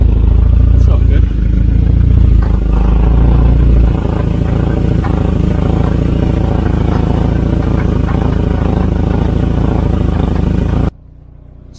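A Volvo 940 Turbo engine runs rough at idle, a loud uneven rumble with irregular knocks and clatter, while a person talks over it before it cuts out abruptly near the end.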